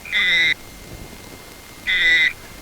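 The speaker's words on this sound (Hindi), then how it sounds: "वो मेंढक बोल रहा है।" Two short, loud, harmonic croaking calls about a second and a half apart, standing out against a soft background hiss.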